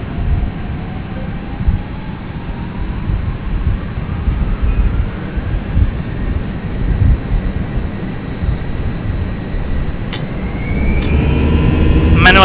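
Twin jet engines of an FSLabs A320 in a Prepar3D flight simulator spool up for takeoff, a steady low rumble with rising whine tones that grows louder and swells sharply near the end.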